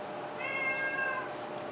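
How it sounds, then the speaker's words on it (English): A domestic cat gives a single drawn-out meow, faint and somewhat distant, in an otherwise quiet indoor room. "that's my cat in the background"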